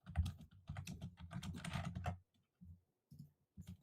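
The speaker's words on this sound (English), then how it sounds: "We're both typing." Two people type on computer keyboards, a close, dense run of rapid key clicks followed by a few sparser bursts of tapping.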